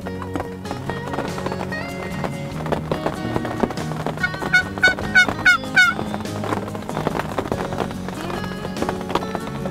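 Wild turkeys, two jakes and a hen with a strutting tom, gobble and call in a rapid burst mid-clip over a busy outdoor background of rustling and movement, fairly close and loud.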